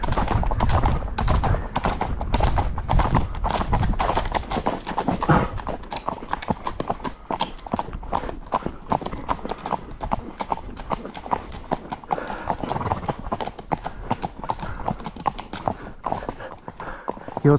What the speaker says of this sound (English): I think that was about half a mile long canter